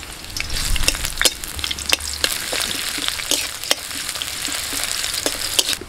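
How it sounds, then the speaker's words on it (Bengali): Chopped onion frying in mustard oil in a wok after dried chillies, a loud close sizzle broken by sharp scraping stirs and clacks of the spatula at an irregular pace. "লঙ্কাটা ভেজে নিয়ে দিয়ে দিচ্ছি পেঁয়াজ কুচি"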